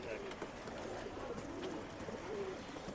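Soft pigeon cooing from a breeding sabja rekdhar male in a Bangalore pigeon setup, low and steady under faint background noise.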